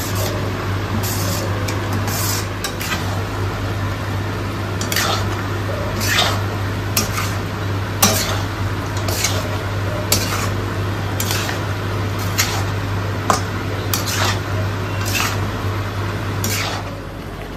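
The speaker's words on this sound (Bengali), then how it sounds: "আগে থেকে ভেজে রাখা পেঁয়াজ ক্যাপসিকাম অ্যাড করা হচ্ছে।" Pre-fried onion and capsicum added to cooking meat in a pan, repeated clattering scrapes and knocks of a spoon against cookware in a regular rhythm over a steady hum and faint sizzle, close by.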